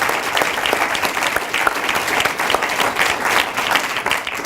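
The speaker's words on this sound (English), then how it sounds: "let's just have another round of applause for those incredible" Steady applause from an audience fills the whole stretch, dense clapping at an even level with no voices over it.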